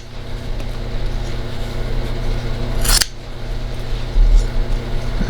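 Scissors slice through pool table cloth in one long cut near the middle, a short bright snip standing out against a steady background hum of a fan or machine.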